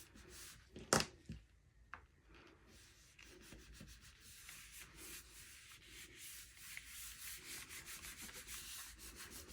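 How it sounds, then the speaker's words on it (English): Cardstock is rubbed by hand onto a Gelli print plate, a soft continuous scratchy rubbing in quick strokes after a brief clack of handling, close but quiet, with no talk. "I'm going to rub on this. Make sure it has really good contact."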